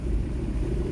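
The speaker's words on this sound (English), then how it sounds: "the van is starting to suffer. The exhaust is leaking." A Volkswagen T4 Transporter van with a leaking exhaust gives a steady, deep engine rumble from inside the cab in traffic at a road junction in Edinburgh, Scotland, with no other sound over it.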